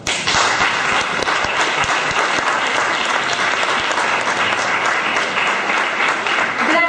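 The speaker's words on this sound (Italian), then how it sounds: "concludiamo con un applauso comunque a tutti voi" A hall full of spectators at a screening of La vie d'Adèle breaks into loud, steady applause that starts abruptly and holds as a dense, even roar of clapping hands throughout.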